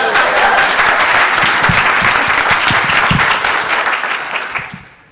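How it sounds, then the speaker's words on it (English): Warm, loud audience applause for a presenter named Liz, many hands clapping steadily with a few sharper individual claps, then fading out over the last second. "a round of applause for Liz"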